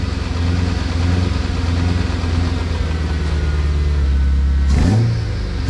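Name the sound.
BMW E92 M3 engine accelerating in first gear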